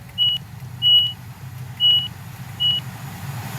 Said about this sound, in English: What's the buzzer code for if you overshoot a station? It's 22, isn't it?